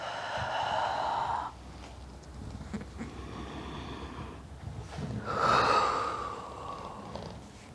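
A deep exhaled breath during a fit ball exercise class, a long breathy rush lasting over a second, then quieter breathing and a second strong breath out, close and alone.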